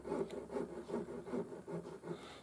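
Rhythmic back-and-forth rasping of a small hand frame saw cutting, about nine even strokes in steady succession, close up with no talking.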